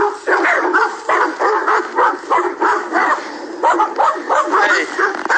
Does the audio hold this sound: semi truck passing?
no